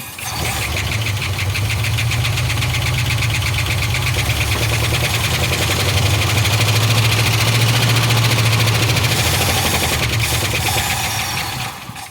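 Engine of an abandoned 1975 Ford F500 rollback truck that sat in a field for 17 years, cranking and turning over with a loud, close, rhythmic chugging and knocking that holds steady for about twelve seconds before cutting off.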